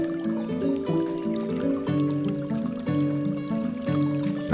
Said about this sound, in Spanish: Tomar un poco más de agua.